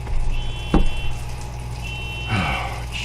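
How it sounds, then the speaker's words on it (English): A car alarm going off, a steady electronic tone sounding from a distance with a couple of bursts of nearby noise over it, no talk in between. "The car alarm's going off."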